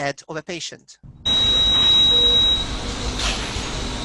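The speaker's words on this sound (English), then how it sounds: "And then you're hearing alarms." Alarms sounding at an intensive care patient's bedside: a steady high electronic tone and continuous monitor noise with fainter beeps, following a brief burst of speech at the start.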